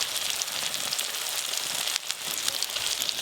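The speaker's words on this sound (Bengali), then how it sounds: "মশলা ভালো করে কষে নিয়েছি, ভেজে রাখা ইলিশ মাছের মাথাগুলো এর উপর দিয়ে দেবো।" Fried hilsa fish heads set on spice masala sizzling in a pan, a steady crackling hiss up close with no talk.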